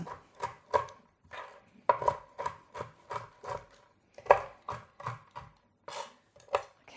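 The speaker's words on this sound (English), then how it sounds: "And now I'm just going to roughly chop these nuts" A knife roughly chopping half a cup of pistachio nuts on a board, giving a steady series of crisp close taps and crunches at an uneven rhythm, with no talk.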